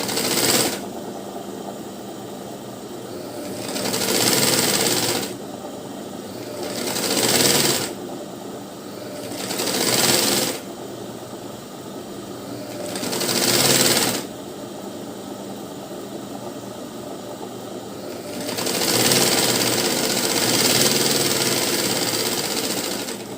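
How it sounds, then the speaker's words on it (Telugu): A sewing machine stitches a blouse lining in repeated runs, its steady mechanical whirr rising for a few seconds at a time and then pausing, several bursts in succession. "మళ్ళీ ఒకసారి పై నుండి రెండో కుట్టు వేసుకోవాలి."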